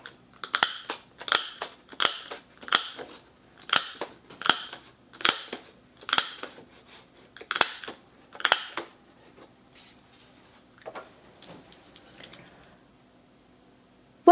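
A paper punch snaps through paper with about ten crisp, crunchy clicks at a steady rhythm, then a few fainter clicks in near silence.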